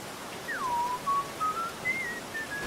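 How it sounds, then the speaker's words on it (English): A character in the video game Aliens: Dark Descent whistles a wavering, melodic tune of several rising and falling notes, carried alone over a low ambient game background. "Who's whistling? Is that one of our guys?"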